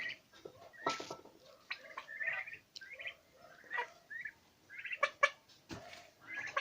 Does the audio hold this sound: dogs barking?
no